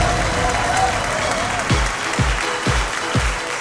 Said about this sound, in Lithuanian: Ponios ir ponai, plojimais pasitikime.